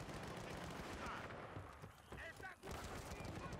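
Light machine gun fire in Battlefield: Bad Company 2, a steady dense clatter of battlefield shooting that runs almost the whole time, with a brief dip in the middle, under a busy war soundscape.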